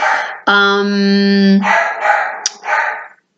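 A single sustained, harmonic canine vocalization, more howl or whine than short bark, followed by a few rougher yelps, close and loud.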